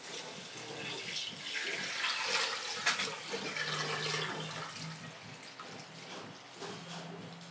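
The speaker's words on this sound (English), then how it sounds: "I'll now pour it inside the pot with the cow head." Banga stock poured into a cooking pot holding a cow head, a steady splashing, gurgling stream of liquid close by, continuous for several seconds without talk.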